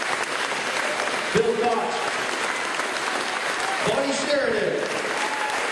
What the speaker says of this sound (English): please keep your applause going as we read out the names of our survivors